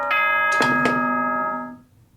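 Bright electronic announcement chime from the video game Danganronpa 2, a few ringing bell-like tones struck in quick succession, loud and clear, then decaying slowly into quiet.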